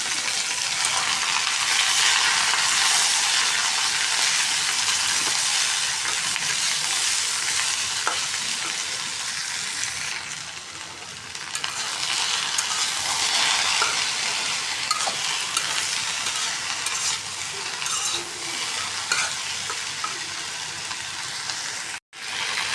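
Onions sizzling in hot oil in a pan, a dense, steady frying hiss that runs loud and continuous with occasional stirring scrapes and pops, with no talking.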